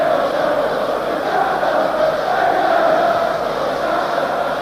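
A football stadium crowd at a 1990–91 Leeds United versus Wimbledon match roars and cheers after a goal, a dense, sustained, broad wash of distant voices with no single voice standing out.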